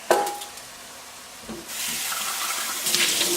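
Tap water runs into a sink while a bell pepper is rinsed, starting faint after a couple of knocks and becoming a loud, steady hiss for the second half.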